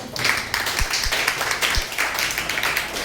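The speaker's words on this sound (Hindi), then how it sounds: "जोरदार ताली एक बार।" A class of children claps loudly in a geography lesson, with many quick, overlapping hand claps forming dense applause and a few sharp thumps.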